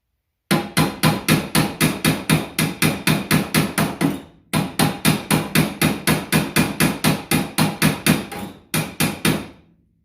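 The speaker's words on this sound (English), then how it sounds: "Then you just take a hammer and you hit it right here." A hammer strikes a frozen, rusted car hood hinge in quick, even blows, a long run of sharp metallic hits, a brief pause, then another long run and a short final burst, loud and close.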